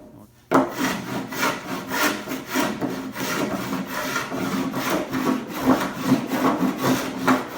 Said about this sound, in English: I've got the board rough sanded